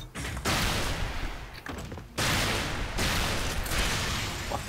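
Bursts of weapon fire from the first-person shooter Unreal Tournament III come in several long, dense volleys separated by short gaps, loud and sustained with no talk over them.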